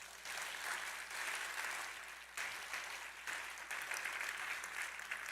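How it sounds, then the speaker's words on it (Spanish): A church congregation applauding during a sermon, a full, even wash of clapping with a brief dip midway before it swells again, no speech over it. "¿Quién puede dar un aplauso a Dios por eso?"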